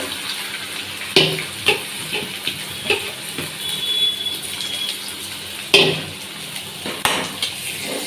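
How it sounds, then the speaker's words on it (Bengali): Water pours into a cooking pot holding lentils, with splashing and several sharp clanks of metal cookware, faint kitchen hum beneath. "এখানে জলও ফুটতে থাক গরম করতে জল দিয়ে দিলাম ডাল"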